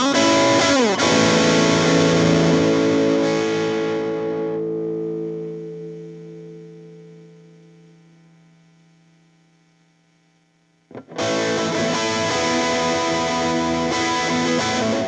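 Electric guitar driven through a JHS Hard Drive distortion pedal, a loud sustained chord ringing with harmonics and slowly decaying to near silence before a fresh hard-strummed chord bursts back in, with hum underneath.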